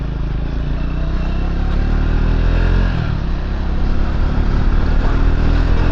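A Triumph Scrambler 400x motorcycle with about 8,200 km on it runs steadily while riding in traffic, its engine hum loud and constant under wind rush, with a slight swell partway through.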